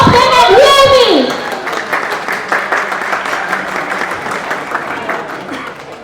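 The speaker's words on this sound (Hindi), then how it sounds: "A big round of applause, guys, for Top 10 and Realme" Applause and cheering from an audience at the Realme 14T phone launch event with the Top 10 team, a dense wash of clapping that follows a short burst of voices and tones and stays steady and fairly loud.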